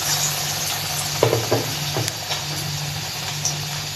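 Egg chops and potato chops frying in hot oil, a steady close sizzle with a few soft knocks and stirring clatters over a low electrical hum.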